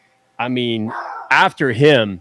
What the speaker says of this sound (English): Vicious attack dogs back there.